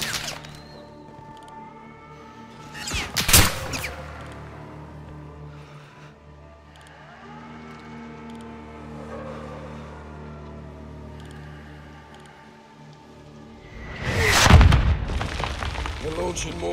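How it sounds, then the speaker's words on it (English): Mortar fire in Call of Duty Modern Warfare 2 on PS5: two heavy booms land about eleven seconds apart, each a sharp loud crack with a rolling tail, over a low battlefield rumble and quieter mechanical hum. "We're launching mortars."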